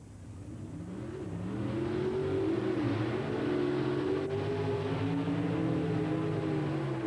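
Bob Glidden's Ford Thunderbird Pro Stock drag car at a 1986 NHRA drag race at Atlanta Dragway, its engine revving and roaring loud and steady as it accelerates, the sound building over the first couple of seconds and holding throughout.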